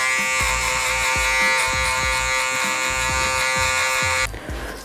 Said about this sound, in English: we're going to bald them out with the shaver